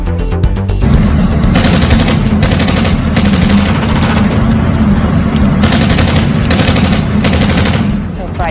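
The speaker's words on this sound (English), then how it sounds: "The chilling gunfire all caught on camera." Rapid automatic gunfire rattles in long sustained bursts during an attack inside a packed Istanbul nightclub, loud and harsh on surveillance camera audio, with brief pauses between volleys.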